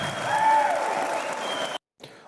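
A canned applause sound effect fired off from a one-person live studio board, a dense burst of clapping and crowd noise that cuts off abruptly, followed by a brief gap and a faint resumption.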